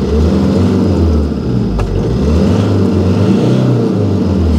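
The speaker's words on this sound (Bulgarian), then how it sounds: "двигателя се успокоява нормално" The engine of a rear-wheel-drive pickup runs loud and close with a deep, rough rumble, rising and falling slightly as it revs, no talking.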